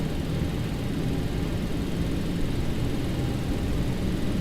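Boeing 737-800 jet engines spool up in the X-Plane 12 flight simulator, a steady, loud broadband roar with low rumble that holds constant throughout, with no talk over it.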